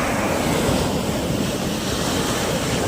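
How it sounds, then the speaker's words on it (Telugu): Sea waves at Vizag beach in the evening, a continuous loud wash of surf rolling in and out, with wind rumbling against the microphone. "అలలు కూడా ఎవరు చూస్తున్నట్టుగా ఒకే లెవెల్గా వస్తూ వెళ్తుంటాయి ఇక్కడ"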